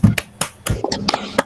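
A school class performing the 'tepuk semangat' rhythmic clapping chant. Several sharp claps in an uneven, patterned rhythm over a second and a half, with voices chanting along.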